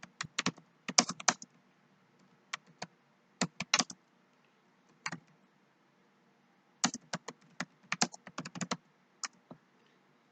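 Keys clatter on a computer keyboard as a search is typed, quick bursts of crisp clicks separated by pauses, close and clear with no talking.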